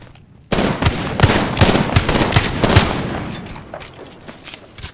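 Rapid bursts of automatic gunfire in the video game Apex Legends, loud close shots in quick rhythmic volleys that start abruptly and trail off toward the end.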